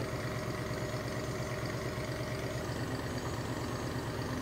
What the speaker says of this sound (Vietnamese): Cùng với đó là tiếng máy động cơ của tàu hút cát hoạt động